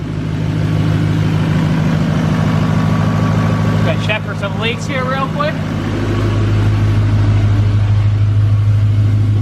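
A 2019 L5P Duramax diesel pickup with a new exhaust and tune idling loudly with a deep, steady rumble, someone talking over it midway before the engine note swells slightly.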